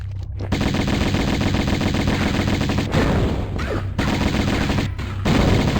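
Lara Croft's rapid gunfire in the remastered Tomb Raider 1 Atlantis level: loud, dense bursts of repeated shots, broken by a few short pauses between volleys.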